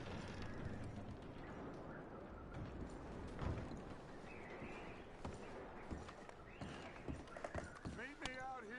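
Horse hooves clip-clopping at a walk in the Red Dead Redemption video game, soft and fairly close, with voices talking over the steps.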